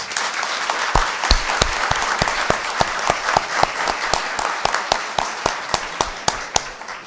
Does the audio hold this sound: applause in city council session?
yes